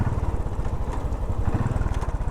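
Royal Enfield 500 Bullet motorcycle engine running close by, a deep, steady, rapid thumping idle with no voices.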